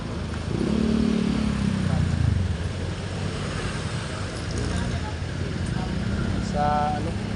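Road traffic with motorcycles and cars rumbles steadily along a busy street lined with vendors, engines droning continuously with occasional revs and clatter while people talk over it.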